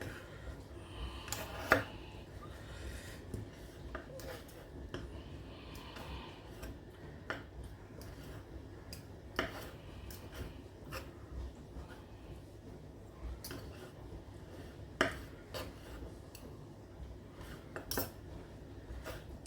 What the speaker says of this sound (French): je prends la fourchette